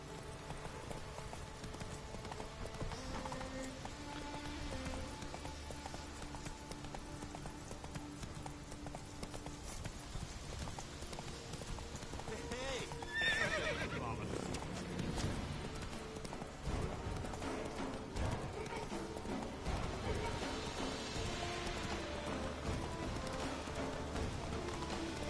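Roach, a horse in The Witcher 3, gallops with a steady clip-clop of hooves beneath layered game ambience and music. Rain patters faintly, and a brief whinny may rise partway through.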